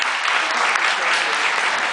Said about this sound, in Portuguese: uma salva de palmas para minha namorada que está aqui